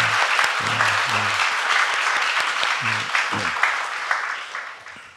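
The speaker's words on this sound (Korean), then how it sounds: "우리 다시 한번 우리 저 챔버 팀에게 감사의 박수를 응원 박수." A church congregation applauds a chamber ensemble during a Sunday worship service, a full, even round of clapping that holds steady and gradually fades toward the end, with low voice fragments briefly audible early on.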